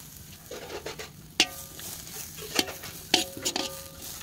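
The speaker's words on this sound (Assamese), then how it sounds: "এতিয়া মই এইখিনি তিলখিনি ভাজি আছোঁ" Washed sesame seeds roast dry in a pan, with a faint crackle and several sharp scraping stirs and clinks spaced irregularly, close and fairly quiet.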